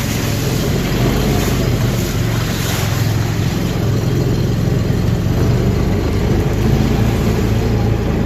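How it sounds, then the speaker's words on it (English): A farm vehicle grinds through muddy ground while moving grass-fed beef cattle to new pasture, a loud continuous engine drone and rumble with wind-like noise, no talking. "Let's just bore through the little mudding."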